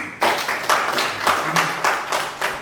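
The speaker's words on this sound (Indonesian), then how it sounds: "Kita berikan aplaus dulu untuk Bu Anis" A seminar audience claps for a speaker, a brisk round of applause from many hands, loud and close, with quick overlapping claps that hold steady for a couple of seconds.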